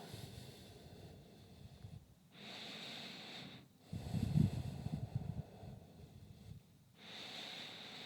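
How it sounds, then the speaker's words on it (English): Slow, deep breaths during a hip mobility stretch, close and soft, with three long airy exhales separated by brief pauses and a few snorting inhales. "Take 3 to 4 deep breaths here."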